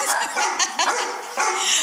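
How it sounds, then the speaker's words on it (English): A small dog barks and yips in quick, sharp bursts close by, several yelps tumbling together over about two seconds with whimpering edges and no talk. "I'm sorry if your dog has started barking"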